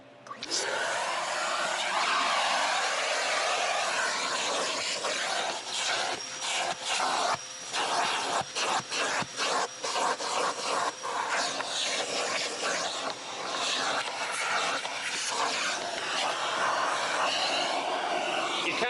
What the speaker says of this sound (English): I'm going to vacuum the carpeting